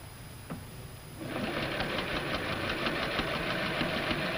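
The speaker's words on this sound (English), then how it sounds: "She'll start by stay stitching the skirt front waistline." A sewing machine stay-stitches the waistline of a skirt front, starting after a quiet moment and settling into a steady, fast, rhythmic whirring chatter that continues to the end, with no voices.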